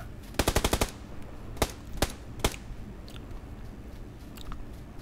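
Gunfire in the battle royale game PUBG: a rapid automatic burst of about six shots, then three spaced single cracks, fairly crisp against a quiet background.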